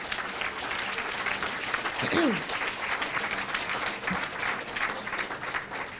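An audience at a memorial lecture breaks into steady applause, a continuous wash of many hands clapping with a brief voice and a faint whistle-like call mixed in.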